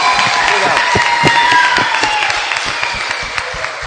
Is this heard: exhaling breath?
no